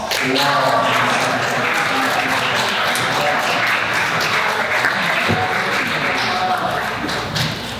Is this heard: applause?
yes